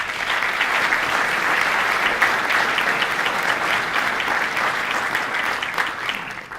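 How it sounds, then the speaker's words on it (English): Steady, dense audience applause from a crowd at a legislative event honoring high school student leaders, continuous clapping at even loudness throughout with no talking over it. "Let's give these young leaders a round of applause"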